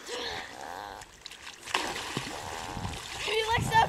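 A dog swimming in a bay, splashing and sloshing water with a few churning bursts, while people talk nearby.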